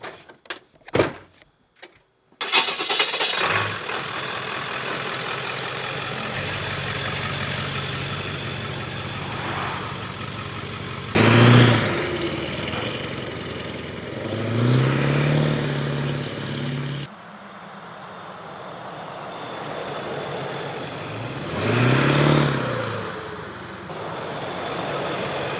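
A 7.3L Powerstroke diesel truck makes several flybys, its engine rumbling steadily and swelling loudly as it passes close, then easing off between runs, with a few sharp knocks at the start.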